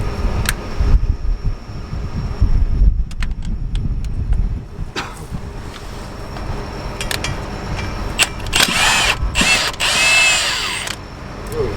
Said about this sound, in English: So we're going to need the U-joint tool for these caps here.